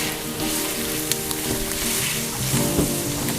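Onions and celery sizzle and fry in a hot pan while being stirred, a steady close crackling hiss with occasional scraping of the spoon, no talking.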